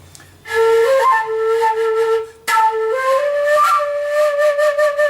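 A breathy, airy flute plays a slow melody of sustained notes, pausing briefly midway before continuing, clear and close.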